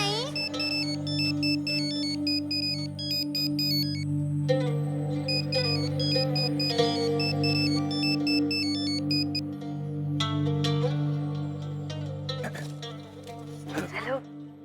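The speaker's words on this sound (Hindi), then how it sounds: "आपका फोन बज रहा है," A mobile phone ringtone plays a repeating electronic melody at a steady rhythm for the whole stretch, under a continuous tonal music bed in a Hindi TV drama scene.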